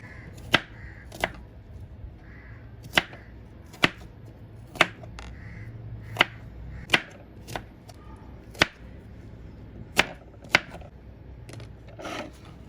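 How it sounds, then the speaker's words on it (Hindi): Onions chopped in a manual hand chopper, sharp regular clacks about once a second over a faint rustle, close and distinct. "सबसे पहले हम प्याज को इसमें अच्छे से चॉप कर लेंगे"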